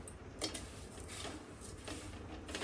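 Gas stove being switched on in a home kitchen while sugar syrup for cashew katli is prepared, giving a few faint, scattered ignition clicks over a quiet background hiss.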